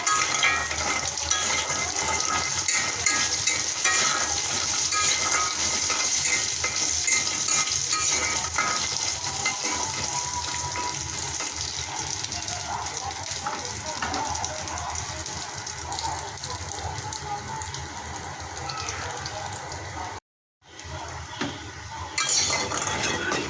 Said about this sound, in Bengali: বড়িগুলো ভালো করে ভেজে নেব।